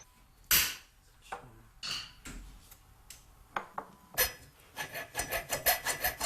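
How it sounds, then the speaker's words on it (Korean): Gold lump being ground into gold powder, a dry rasping scrape with irregular strokes that quicken into a rapid rhythmic series toward the end, close and alone. "금 도금을 위해서는 먼저 금덩어리를 갈아 금가루를 만들어야 한다"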